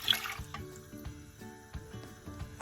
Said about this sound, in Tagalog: Magpakulo tayo ng tubig sa ating kaserola.